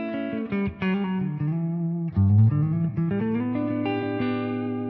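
An electric guitar played through an amplifier with reverb switched on, ringing sustained chords and notes that blend into one another with a roomy wash, steady and fairly loud with no talking.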